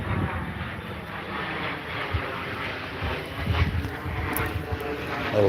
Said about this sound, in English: A Lear jet flying over my head.